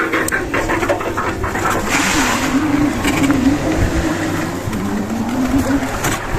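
An electric construction wheelbarrow loaded with concrete drives off on a building site with a rough, continuous rolling rumble and a steady whine rising and dipping, close and loud with no talk.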